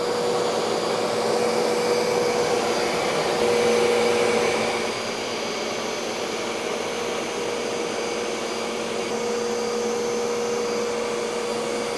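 A Rug Doctor Pro carpet cleaner runs steadily indoors, a loud constant motor and suction whine with a brief shift in pitch partway through, no talking.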